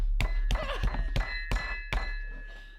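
A fist punches a cornstarch-and-water mixture several times, each blow a dull, close thud landing at uneven intervals, with faint ringing tones lingering between hits.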